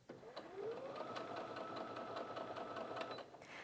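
A Brother Innov-is F560 sewing machine stitches fabric in a steady, close, quiet whir with a fast rhythmic needle tick, running alone for a few seconds before stopping.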